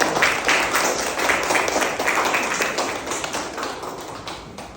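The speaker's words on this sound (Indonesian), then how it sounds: "Beri tepuk tangan sama." A class of students claps together in a classroom, a brisk, close, rhythmic patter that stays strong and slowly tapers toward the end.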